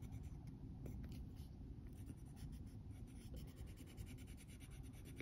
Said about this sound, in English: with my Caran d'Ache luminance pencil